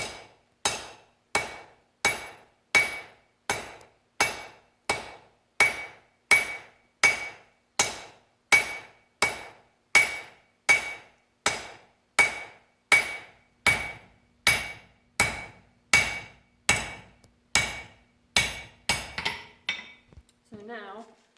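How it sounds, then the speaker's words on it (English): A hammer strikes a hot steel bar over and over at a steady, even rhythm, forging a square tapered point on its end. The blows ring out close and sharp and slow slightly toward the finish. "my hammer is doing the other side of the work. So I'll just put a quick point on the end of this bar."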